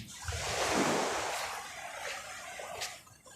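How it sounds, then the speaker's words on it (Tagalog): Big ocean waves breaking at a surf spot in La Union: one loud, close wash of surf swells and slowly fades over a few seconds, with a steady roar underneath. "Ang lalaki ng alon, no?"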